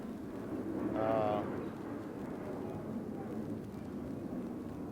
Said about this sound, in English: let me let the plane pass